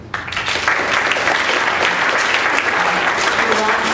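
An audience at an atheist convention breaks into loud, dense applause that rises quickly and holds steady, many hands clapping close together for several seconds.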